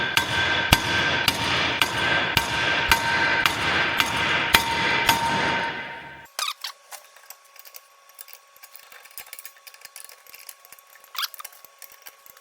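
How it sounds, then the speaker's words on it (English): A hammer strikes hard on a VW Amarok rear wheel bearing with the half shaft removed, about nine sharp, ringing metallic knocks in a steady rhythm, followed by quieter scattered clicks and a faint ringing tail. "we're going to give it a decent few knocks with the hammer"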